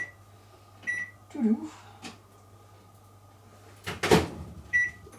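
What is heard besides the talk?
microwave oven running on low power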